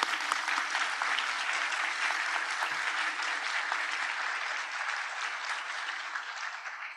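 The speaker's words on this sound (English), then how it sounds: "Can we give them all another round of applause?" Steady, full applause from a large audience at an annual conference awards ceremony, honoring authors and publishers; dense clapping holds evenly for about seven seconds and eases slightly toward the end.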